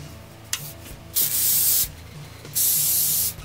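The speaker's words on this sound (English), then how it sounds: "I want to give it a spray." Two long bursts of aerosol hairspray hiss onto a bun hairstyle, each lasting under a second, separated by a pause, with a short puff just before the first.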